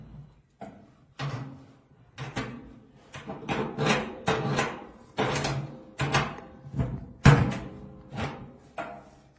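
A metal baking tray is slid into a Raffal 45-litre electric oven, giving a run of scraping and thunking knocks that start and stop, close and fairly clear, with no talk.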